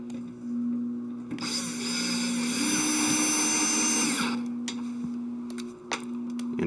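A drill or power screwdriver drives Phillips or quarter-inch screws back into a GE refrigerator during a condenser fan motor repair. It gives one whirring burst of about three seconds over a steady low hum, followed by a few faint clicks.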